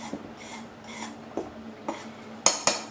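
A spoon or whisk scrapes and clinks in a bowl while baking powder is stirred into sifted flour for a strawberry-rhubarb cake, a series of short gritty strokes with a couple of sharper taps near the end.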